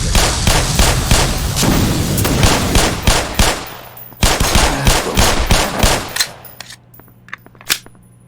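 Rapid, loud automatic gunfire from the video game Black Mesa, with dense bursts of shots for about six seconds, then a pause before a few scattered final shots over a low hum.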